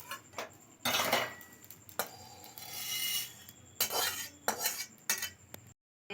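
Fried mustard seeds are tipped out of a pan, giving a few bursts of scraping, rattling metal and a longer spill of grainy patter, loud and near, with short gaps between strokes.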